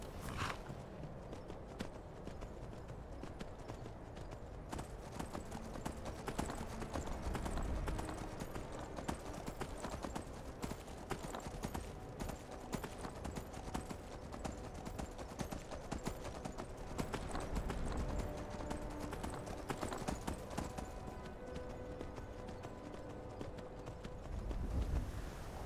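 A horse's hooves pound along at a gallop in Skyrim, a fairly quiet but constant drumming rhythm of hoofbeats layered over outdoor game ambience throughout.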